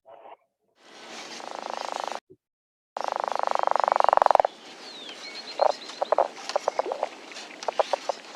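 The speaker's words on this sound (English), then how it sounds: "that's a leopard frog probably" A leopard frog's breeding call, a recording from the Calgary Zoo, comes as low growling bursts followed by a series of short, rapid clucks, fairly close and isolated against silence.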